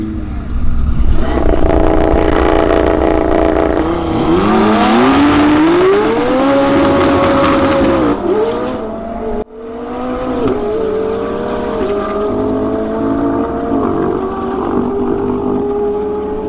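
Race cars, including a McLaren, accelerate hard at a track racing event, with a loud continuous engine roar rising in pitch through gear changes, a brief drop partway, then steady revving.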